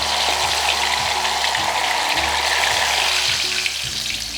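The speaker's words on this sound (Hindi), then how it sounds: "अभी ये गर्मा गर्म तेल में होगा फ्राई" Marinated whole chicken sizzling in hot oil, a dense continuous hiss and bubbling crackle that stays loud and close throughout with no voices.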